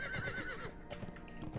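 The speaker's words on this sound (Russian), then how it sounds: "Да, конь бежит, конь сбивает с ног и наносит некислый урон." A horse galloping and whinnying in the Conan Exiles video game, with the mount charging to knock enemies down. The neighing and hoofbeats come through loud and close, continuous, with no talk over them.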